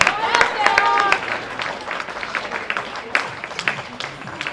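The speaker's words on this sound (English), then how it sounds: "Your applause please for Brittany Bealby, who was game from the start and led this race out" Crowd applause at an athletics championship for a runner who led the race, steady clapping and cheering in a large outdoor setting, heard under a public-address announcer talking.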